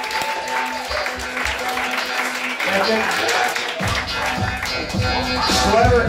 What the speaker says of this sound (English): clap it up for Sean Crespo